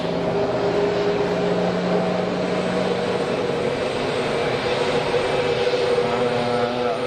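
An airliner landing at Geneva Airport makes a steady, loud engine roar with a low droning hum that holds throughout, heard from a moderate distance.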